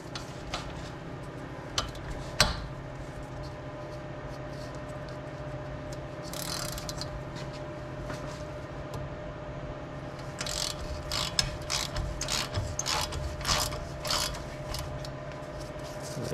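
A ratchet works a 10mm Allen top caliper bolt on the front strut of a Porsche 911 996. A few isolated clicks come first, then a quick run of close ratchet clicks near the end over a steady low hum.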